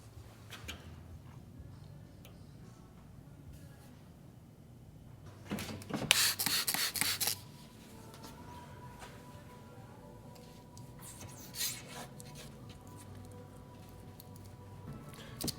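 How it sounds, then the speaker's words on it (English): Marker tip rubbing and scratching along window tint film laid over a flat window pane on a CFMOTO U10 Pro side-by-side, soft and close, with a louder rasping burst in the middle. "Take your marker and just gently go around it"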